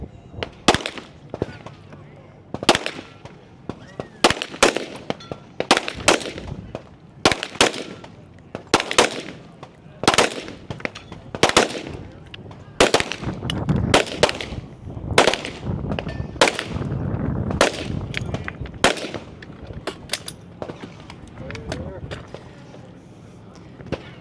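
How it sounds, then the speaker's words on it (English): Pistol shots fired in a men's elite shooting competition stage at the 2024 Nationals: a long run of sharp, loud reports in irregular quick bursts, some spaced apart, with faint voices in the background. "As Tanner now moves to the pistol, he'll go right over the top."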